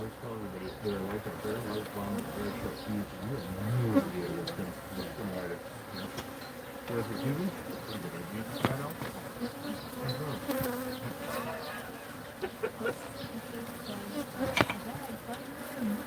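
Bees swarm and buzz steadily around a hive. The hum is low and continuous for the whole stretch, with occasional louder passes close by and soft background noise.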